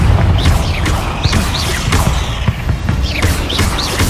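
Spell explosions in the Hogwarts Legacy video game fighting spiders: a dense, loud stretch of repeated blasts, thuds and crashes with bright whooshing streaks over a constant rumbling game soundscape.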